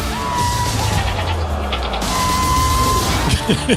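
A goat bleats loudly in a movie trailer, drawn-out wavering cries over a dense score and effects bed, with a second bleat following partway through.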